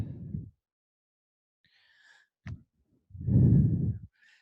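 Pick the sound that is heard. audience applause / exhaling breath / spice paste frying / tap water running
exhaling breath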